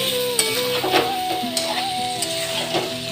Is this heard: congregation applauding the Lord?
no